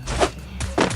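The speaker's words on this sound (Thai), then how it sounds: "ตะกี้นี่เสียงเท้านี่" Footsteps in the Free Fire video game: two bursts of dull, thudding steps about half a second apart, fairly loud over a low game background hum.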